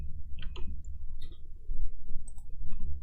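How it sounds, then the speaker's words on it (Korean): A computer mouse gives several light, quick clicks close by, in small irregular clusters, over a low background hum while a spreadsheet range is selected, with no talking. "렌즈는 성별 전체 클릭 드래그"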